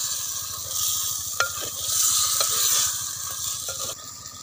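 Chicken kosha stirred in a clay pot, a continuous sizzle with repeated scraping strokes and a few sharp knocks of the spoon, close and moderately loud, easing off near the end.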